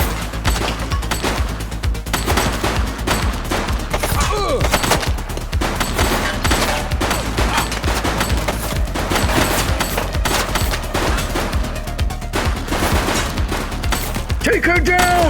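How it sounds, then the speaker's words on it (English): Dense, rapid gunfire rattles through a shootout in the police video game The Precinct, shots overlapping in loud continuous bursts with voices occasionally calling out amid the fire. "Shots fired!"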